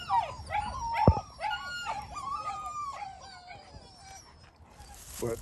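Several puppies whimper and howl in a high, wavering chorus close by, with short yips and one sharp loud cry near the start, continuing steadily before fading into faint background noise.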